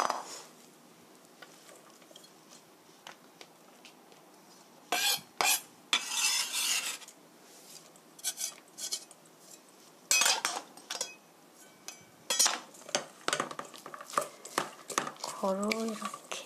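A hamburg steak mixture of minced meat and chopped vegetables is mixed in a bowl, giving bursts of scraping and clinking, with quieter stretches between.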